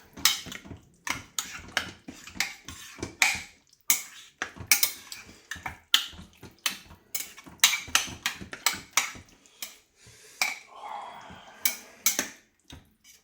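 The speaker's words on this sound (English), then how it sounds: "And then I'll give that a good mix." Food being stirred in a slow cooker, a rapid, rhythmic series of clacking knocks from a utensil against the pot, fairly close and steady throughout.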